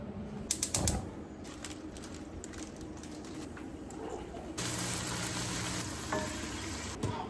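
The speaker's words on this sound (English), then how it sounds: "sauteed spinach with olive oil and garlic" Spinach sautéing in olive oil with garlic sizzles steadily in a pan, with a few sharp clatters of stirring near the start and a louder burst of frying later on.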